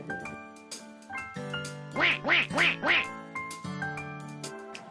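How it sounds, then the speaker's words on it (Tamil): A duck quacks four times in a quick, evenly spaced burst, loud and close, set within a gentle musical backing in a bedtime fairytale about an ugly duckling. "தாத்தா வாத்து சத்தம் கேட்டு தாய் வாத்தை பார்க்க சென்றது."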